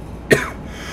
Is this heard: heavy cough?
yes